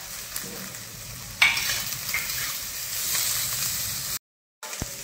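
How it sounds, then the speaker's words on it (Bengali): Close, steady sizzling and hissing of cabbage, capsicum, carrot, onion and green chillies stir-frying in a pan, with a sharp clank partway through and a brief cut to silence near the end. "বাঁধাকপি আর ক্যাপসিকামটা হালকা হালকা ভাজা হচ্ছে।"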